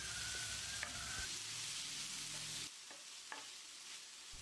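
Steady sizzling of onions and tomatoes sautéing in a pan, with occasional scraping stirs; the sizzle drops quieter partway through.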